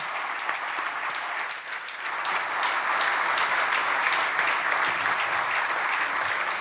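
Audience applause at a forum panel debate on employment, a dense, steady round of clapping from a seated crowd that swells slightly after a short dip and continues throughout.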